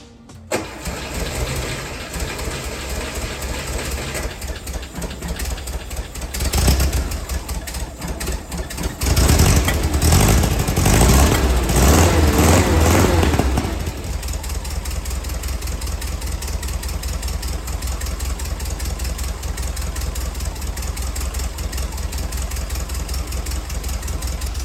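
A VW bus engine runs just after a valve adjustment and while low on oil, idling loudly and steadily nearby with a rough edge, briefly revving harder in the middle before settling back to idle.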